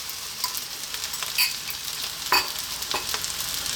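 Lightly beaten eggs frying in a pan of crab fried rice, giving a quiet, steady sizzle with occasional light clinks and scrapes of a spoon, close and fairly soft, without speech.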